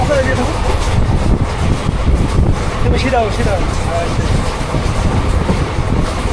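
A train rumbles loudly along the rails with a steady rolling clatter, and people talk and call out over the noise.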